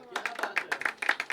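An audience at a poetry open mic at The Habitat claps in a quick, uneven burst of many hands, close and moderately loud throughout.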